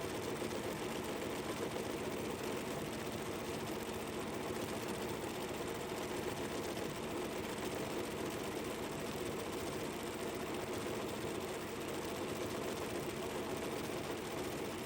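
Sewing machine stitching quilted fabric along a drawn line with a guide attached, a steady continuous whirring hum throughout at moderate level, no pauses.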